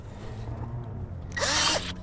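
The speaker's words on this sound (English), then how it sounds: "didn't take much to drill through that, does it?" A power drill whirs briefly for about half a second near the end, loud and close, drilling through a bucket after a quiet stretch of low background hum.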